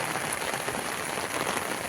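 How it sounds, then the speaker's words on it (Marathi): Steady rain falls outdoors at a village home, a dense, continuous hiss of drops on surfaces with no breaks, near and moderately loud. "हे पाऊस आलाय"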